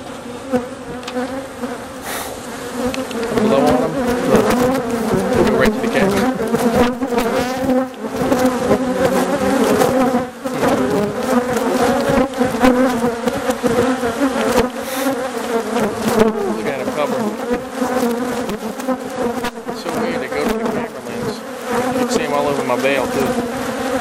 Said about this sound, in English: show you how mean these bees are